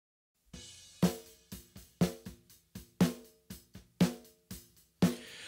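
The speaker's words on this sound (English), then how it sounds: "Let's listen to just the top snare mic." Snare drum close-miked from the top, struck alone in a steady pattern of sharp hits with a few softer ghost strokes between the main backbeats, each crack ringing briefly with a low-mid tone; no voices.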